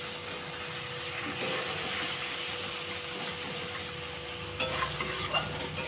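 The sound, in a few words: water added to frying spice paste, sizzling and stirring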